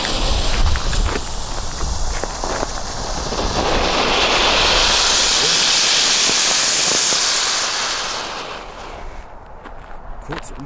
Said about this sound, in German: zünden wir doch mal hier so kleine Töpfe hier, die Brakes